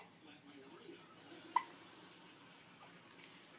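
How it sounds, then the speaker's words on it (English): A baby's hiccup sounds once as a sharp, brief catch around mid-clip, with a fainter one near the end, against a soft, quiet indoor background with adult voices nearby. "Oh, stupid hiccups."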